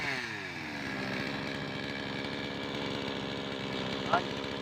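A chainsaw engine runs steadily right after its carburettor was cleaned, a close, buzzing idle that holds an even, slightly throbbing rhythm throughout.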